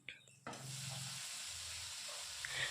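Leafy greens (shak) cooking in a pan over a gas flame with onion, green chili and tempering spices, starting with a sharp sizzle after a clatter, then settling into a soft, steady hiss.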